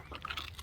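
A short, close crunch of pork crackling being bitten and chewed, a single quick burst with no talking.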